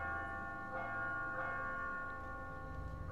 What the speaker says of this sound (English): Time to ring the bell.